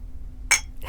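Glasses clink together once in a toast during a celebration, a single bright chime over a low steady background hum, followed by faint rustling.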